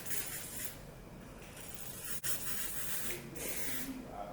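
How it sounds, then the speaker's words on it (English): Hairspray sprayed in between curls while styling beach waves: several soft, hissing aerosol bursts in short spurts, quiet and close. "to go in and spray with hairspray"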